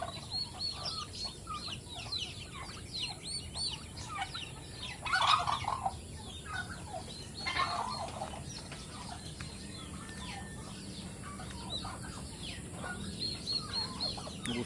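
Free-range turkeys gobble repeatedly in a yard alongside other poultry, with several overlapping calls that swell louder around the middle of the clip, over constant outdoor background noise.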